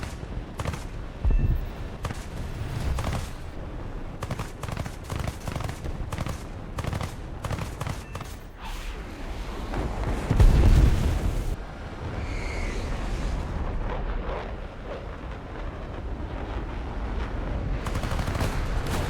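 Cannon fire from a Swedish jet in a combat flight game comes in rapid 20mm bursts, crackling and repeated, over a constant rush of engine and wind noise.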